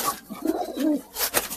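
Murshidabadi pigeon giving a short, soft coo of a couple of low warbling notes, close by and brief.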